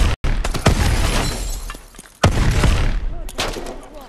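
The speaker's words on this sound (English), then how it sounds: "Oh my god, this shotgun." Shotgun blasts in the Call of Duty: Advanced Warfare video game, loud sharp reports repeating at uneven intervals with crashing debris, close and dominant with little talk.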